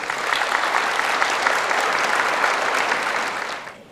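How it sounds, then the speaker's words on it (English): A school awards day audience claps for students in a dense, even burst of applause that holds steady for a few seconds and then fades out. "let's get things started off with a round of applause for these outstanding young men and women"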